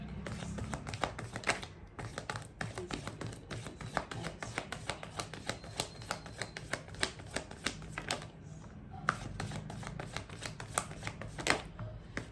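Traditional tarot cards shuffled continuously, a steady crisp riffle of close, repeated card flicks with no talking.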